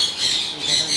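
A big parrot bred in Holland lets out a harsh, grating squawk lasting about a second, loud and close with no other sound around it.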